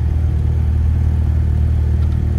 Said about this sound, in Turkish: Aracın egzozu kopuk veya bir de egzoz koptu, kopacak